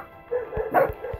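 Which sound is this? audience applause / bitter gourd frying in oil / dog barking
dog barking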